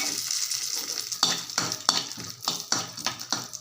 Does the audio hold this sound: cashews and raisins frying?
yes